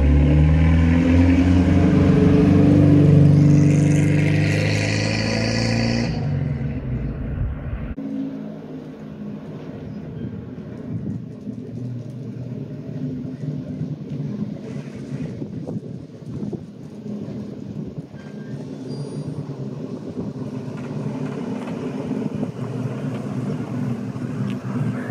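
A 1930 Bentley Speed Eight 6½ Litre motor car driving on an open road, with a steady engine drone and heavy wind rush that continue throughout, and a brief louder surge near the start.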